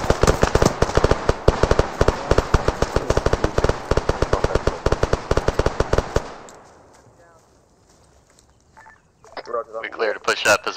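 Rapid squad rifle and machine gun fire in an ArmA 3 battle, a dense run of close, loud bursts for about six seconds that cuts off abruptly, followed by quieter scattered sounds and voices near the end.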